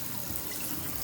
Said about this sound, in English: I rinse out my sink, make sure it's clean.